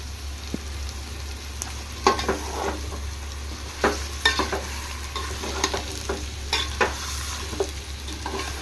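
Tomatoes and red chili powder for chicken biryani fry in a pan under a low, steady sizzle, while a spoon scrapes and taps through them in irregular strokes.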